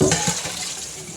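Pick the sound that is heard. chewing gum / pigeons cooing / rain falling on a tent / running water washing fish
running water washing fish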